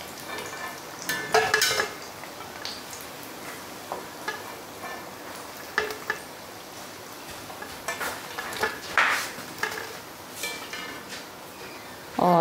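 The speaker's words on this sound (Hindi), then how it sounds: "तो ये हमारे बड़े सिक रहे हैं।" Potato vadas coated in gram flour batter fry in oil in a kadhai, a soft steady sizzle broken by occasional clinks and scrapes of a utensil against the pan.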